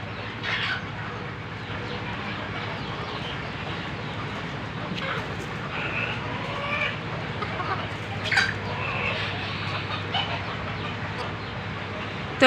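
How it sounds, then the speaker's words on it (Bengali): Desi chickens cluck and call softly while pecking at puffed rice, a low steady flock murmur with occasional sharper clucks over background noise. "আপনারাও চাইলে আপনাদের দেশি মুরগিগুলোকে এরকম মুড়ি খাওয়াতে পারেন।"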